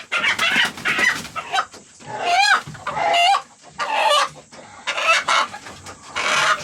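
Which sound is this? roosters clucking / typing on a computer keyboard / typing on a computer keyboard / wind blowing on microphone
roosters clucking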